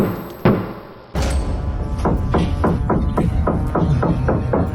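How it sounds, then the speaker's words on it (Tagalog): Steady, rhythmic knocks thud inside the concrete wall of a house in Apalit, Pampanga, starting after a loud jolt and repeating about eight times at an even pace against a heavy background hum. "Pag pumupukpok, para nasa loob mismo ng wall, talagang buhay na buhay yung pukpok."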